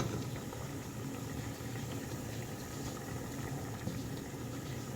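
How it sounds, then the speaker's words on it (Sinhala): A pot of Sri Lankan spicy pork curry simmers on the stove, giving off a continuous, even bubbling hiss with no voices. "දැන් මේක තැම්බිලා මේකෙම ඉස්ම ටික හිඳනකම් මම මෙහෙමම ලිපේ තියාගන්නවා"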